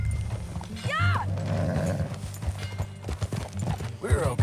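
A horse in Red Dead Redemption 2 clip-clops along at a rhythmic pace under a low rumbling score, with a couple of whistling sweeps and brief game sounds layered on top.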